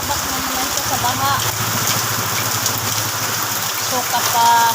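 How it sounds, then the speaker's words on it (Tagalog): Steady rain falls in a dense, even hiss with no break, while a voice speaks briefly and faintly beneath it. "Ang ulan."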